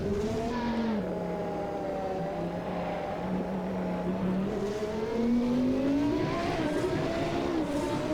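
Race car engine in Assetto Corsa pulling out of the pits at Spa, a steady loud harmonic drone that climbs and shifts pitch through gear changes, continuous and close throughout with no talk.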